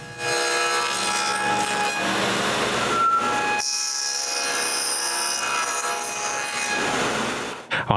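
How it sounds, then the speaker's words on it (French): A table saw cuts a tenon into a wooden workpiece, giving a loud, steady whine that runs for several seconds, cuts off abruptly around the midpoint into a brighter pitch, and ends with a clunk. "Ensuite, je peux couper le premier tenon."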